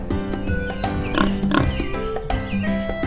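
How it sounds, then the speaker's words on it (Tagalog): A pig oinks several times on a farm, grunting in short bursts over a busy mix of other livestock and background noise, fairly close and steady in level. "May isang baboy sa aking likuran."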